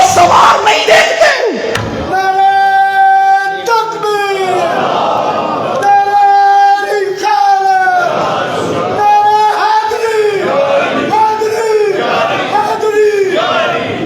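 A religious crowd at a Minhaj-ul-Quran Quran lesson gathering in Haveli Lakha chants slogans, with loud, massed voices rising in repeated, rhythmic call-and-response bursts that run continuously throughout.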